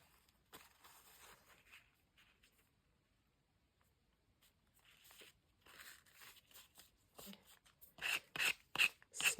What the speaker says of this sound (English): I'm also scraping off the excess that was just on the little edges.